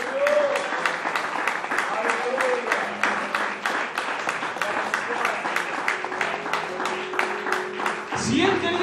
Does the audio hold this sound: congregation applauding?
yes